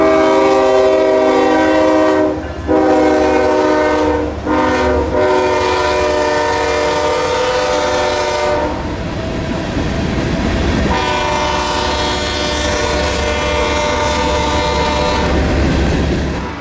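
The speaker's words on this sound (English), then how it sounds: "up next was Q609, Waycross to Mobile mixed freight" A CSX Q609 mixed freight train from Waycross to Mobile passes close and loud, its horn blaring in long blasts over a steady rumble that gives way to rolling, clattering wheels on the rails.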